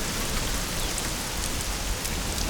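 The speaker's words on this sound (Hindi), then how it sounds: "अरे बारिश हो रही है, बारिश आ रही है" Steady rain falls in a dense, continuous hiss with no breaks, loud and close throughout, with no voices over it.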